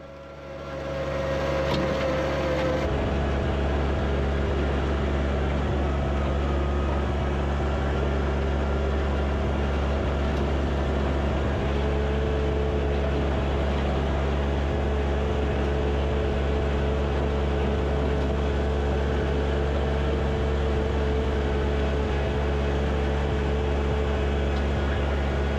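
A John Deere tractor pulls a Woods 6-foot land plane, its engine giving a loud, steady, continuous drone close by for the whole stretch, with no talking.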